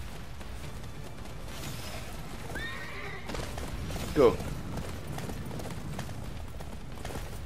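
Horse neigh in the Attack on Titan video game, one brief whinny that rises over steady game noise while a player talks throughout.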